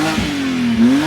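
A 2005 Chrysler 300C with its muffler deleted revs loudly and close up, the engine note rising and falling in one continuous rough roar with no talk over it.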